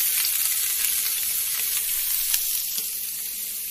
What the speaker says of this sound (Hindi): ये हमारी पनीर फ्राई हो गई है